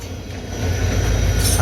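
A train passes outdoors around sunset, a steady low rumble of wheels and rail noise that swells slightly louder toward the end, fairly close with no voices.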